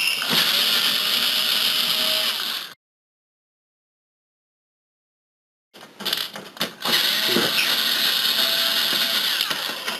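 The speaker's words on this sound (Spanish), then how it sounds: "Lo siguiente será quitar los tornillos que sujetan lo que es la chapa metálica. Son tornillos de estrella y vamos a ir quitando" Phillips screws being backed out of the metal plate of a PlayStation 3 40GB/60GB console, a close, loud ratcheting whir from a screwdriver in two bursts separated by a few seconds of silence.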